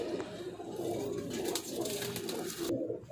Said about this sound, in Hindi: गोल्डन कबूतर लाल आँखों में, शानदार कबूतर है